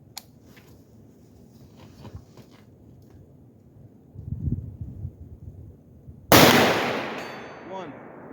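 AR-47 rifle fired in snow at a steel target 200 yards away: one sharp, loud report that trails off in a long decay, with a faint metallic ring afterward. Before it, quieter rustling and low handling sounds.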